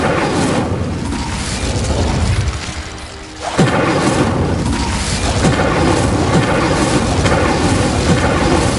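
An Incendio fire spell cast in the game Hogwarts Legacy: a loud, sustained roaring whoosh of flame with a brief dip and then a sharp burst as it flares back up, continuing as a dense rushing blaze.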